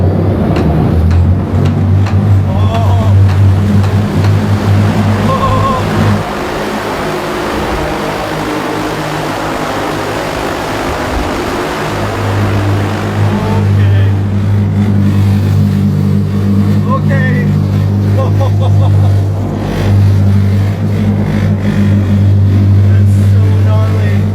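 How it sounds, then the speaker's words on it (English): A flying car in flight in China gives a loud, steady low droning hum that holds throughout, easing slightly in the middle before swelling again. "I'm in a flying car."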